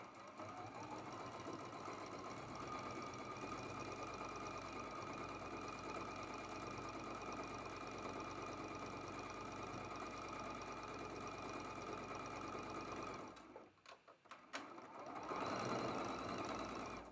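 A sewing machine runs in a long steady rhythmic whir while piecing a Scrap Wonder quilt block, quiet and even, then stops briefly near the end before a short burst of handling noise.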